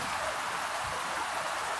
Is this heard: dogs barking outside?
no